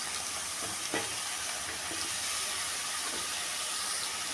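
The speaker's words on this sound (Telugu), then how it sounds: "ఇప్పుడు వంకాయ ముక్కలు వేసేసుకుందామండి." Eggplant pieces fry in a pan with a continuous close hiss and sizzle, with occasional soft crackles and stirring sounds; no talk.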